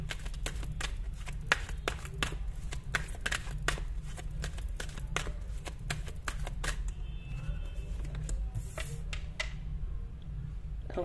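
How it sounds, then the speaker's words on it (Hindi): Tarot cards being shuffled up close, a rapid run of crisp riffling snaps and taps that continues steadily, with a brief pause near the end. "अगर आपको अच्छी नहीं लगती है शफलिंग तो आप स्किप कर सकते हो"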